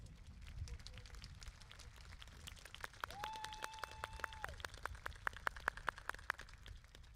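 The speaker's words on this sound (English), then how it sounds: "Let's give our top scholars another big round of applause." A high school graduation crowd applauding the class's top scholars, steady clapping that swells midway with some sharper close claps, a faint tone and cheering mixed in.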